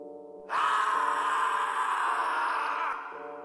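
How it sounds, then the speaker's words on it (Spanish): A long, drawn-out anguished cry rises suddenly and holds for about two and a half seconds before fading, sounding somewhat distant. "un grito desgarrador se escuchó en la distancia."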